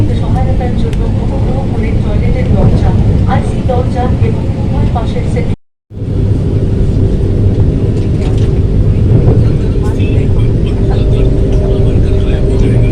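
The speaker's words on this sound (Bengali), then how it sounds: "বন্দে ভারত এই মুহূর্তে তার স্পিড তুলে নিয়েছে" A Vande Bharat express on the Howrah–Gaya route runs at close to 100 km/h, giving a loud, steady onboard rumble that cuts out briefly partway through and then resumes.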